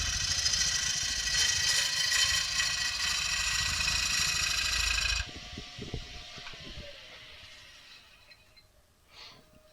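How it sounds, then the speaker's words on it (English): A 1/4 inch 60 degree bevel gouge cuts the outside bottom of a wooden bowl on a lathe, giving a steady close hiss for about five seconds, then the lathe hums on more quietly as it winds down. "in order to clean off the bottom quarter or the bottom third of the outside of the bowl, I'll use a 1/4 inch 60 degree bevel gouge"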